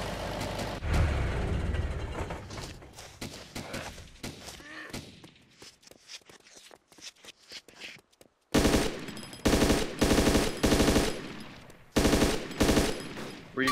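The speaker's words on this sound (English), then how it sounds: "Where are those shots coming from?" Gunshots in the video game DayZ: scattered thuds and shots at first, then loud bursts of rapid automatic fire in three tight clusters near the end.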